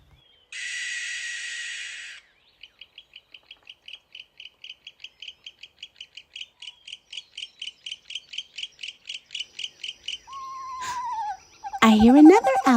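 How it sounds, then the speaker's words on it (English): A barn owl gives a harsh rasping screech, followed by a long run of rapid repeated clicking notes that grow louder, then other bird and owl calls break in at the end. "Well, that's a barn owl."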